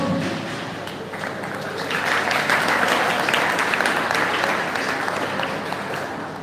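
An audience claps continuously at a mock emergency drill session, a thick, steady patter of many hands that swells slightly midway and stays close and fairly loud to the end.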